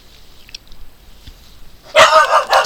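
A dog breaks into loud, close barking near the end, a burst of rapid barks following a quiet stretch of faint room noise.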